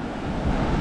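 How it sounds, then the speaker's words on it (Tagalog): Big sea waves roll onto the shore, a loud, continuous rushing surf close by, with wind buffeting the microphone and no voices. "Dahil kasi ang lalaki ng alon"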